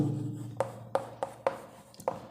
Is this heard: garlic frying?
no